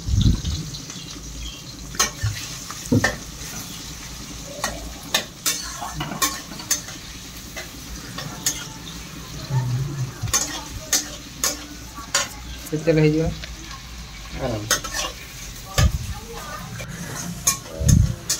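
Chopped onions fry in oil in a home kitchen, sizzling steadily up close while a spoon scrapes and knocks against the pan in repeated stirring strokes, with occasional voices in the background.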